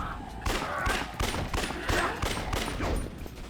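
Gunfire from zombie shooting in the action game Yakuza Dead Souls, a steady rapid string of loud shots and bursts repeating for several seconds amid a dense, noisy battle.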